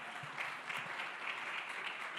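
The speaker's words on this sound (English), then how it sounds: "Please a round of applause." An audience at a decentralized-science panel event applauds with a soft, continuous patter of clapping that holds steady for a couple of seconds, heard faintly from some distance with no voices over it.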